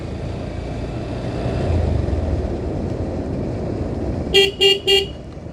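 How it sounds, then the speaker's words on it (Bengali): Steady road and engine rumble from a moving motorcycle on a winding road, then a horn sounds three short, loud honks in quick succession near the end. "এই মোরগুলাতে হর্ন বাজিয়ে খুব সাবধানতার সহিত"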